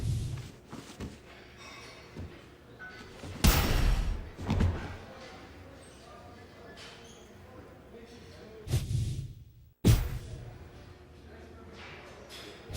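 Knee strikes land in the UFC Undisputed 3 fighting game as heavy, dull thuds: a few scattered impacts, with two loud hits close together early and another pair later, separated by quieter shuffling.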